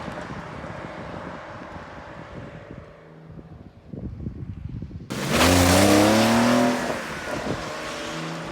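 A 2020 Porsche 911 Carrera S (992) pulls away in first gear, a low idle rumble building into a loud rising engine roar as it accelerates, heard close from inside the car.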